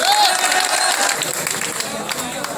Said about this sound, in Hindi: तो एक बार और ताली बजा दो इनके लिए